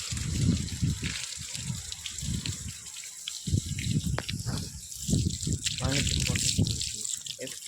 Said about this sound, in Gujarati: અત્યારે આપણે ગાડી પાણી ચાલુ કરી દીધું